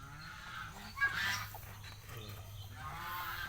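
Geese and Peking ducks honk on a farm at feeding time. A few faint, scattered honks rise over a steady low background hum.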